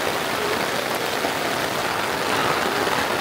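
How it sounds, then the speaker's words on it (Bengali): Heavy daytime downpour at a farm, like monsoon rain, a dense even hiss of rain on surfaces that holds steady throughout with no talking. "একবারে বর্ষা মাসের মতো বৃষ্টি নামছে"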